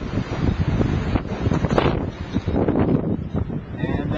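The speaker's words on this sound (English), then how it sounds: "Having a big wind today." Strong wind gusts over the microphone near an AIR 403 wind generator, a loud, continuous rumbling buffeting with fluctuating gusts throughout.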